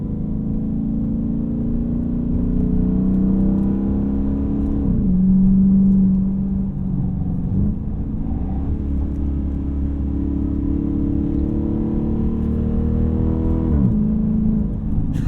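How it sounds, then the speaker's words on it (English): Dodge Charger Pursuit police car engine heard from inside while driving in traffic, a deep steady rumble that rises and falls in pitch through several long gear pulls and shifts, continuous and fairly loud with no talking. "You get the feeling there's a substantial engine in front of you"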